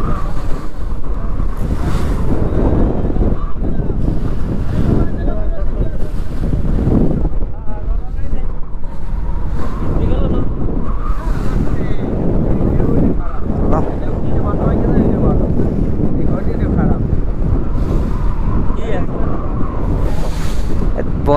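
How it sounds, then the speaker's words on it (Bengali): Strong waves and gusting wind on the Payra river at Taltali, recorded from a boat: continuous loud water rush and wind buffeting across the microphone, with surges of splashing and some voices mixed in throughout. "প্রচন্ড ঢেউ হ্যাঁ পানিতে ভিজে গেছে"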